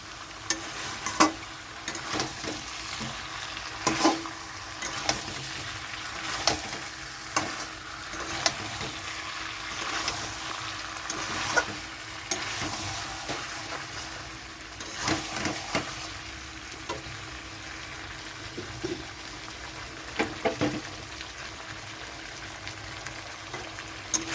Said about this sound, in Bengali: বাড়ানো অবস্থায় চিকেনটা কষাতে হবে যাতে তলায় না লেগে যায়, বারবার এটাকে নাড়তে থাকতে হবে।